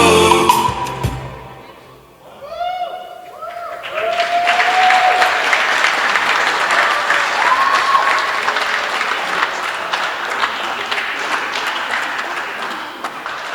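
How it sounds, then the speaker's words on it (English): Wedding guests at the Matafeo reception break into sustained applause after a brief lull, a dense, loud crowd clapping that fills the room and keeps going, with faint voices and a few whoops mixed in. "Another round of applause for Jesse's family."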